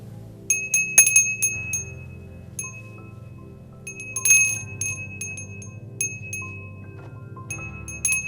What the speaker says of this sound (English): the next thing you do is you ring the bell, and you do it to all 4 corners